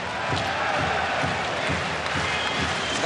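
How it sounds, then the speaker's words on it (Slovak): A crowd claps in a steady chanted rhythm at the Ondrej Nepela ice hockey arena during a 2004/2005 Slovak extraliga semifinal game seven between HC Slovan Bratislava and Dukla, dense and loud throughout. "Skandovaný potlesk ST aréne štadióna Ondreja Nepelu."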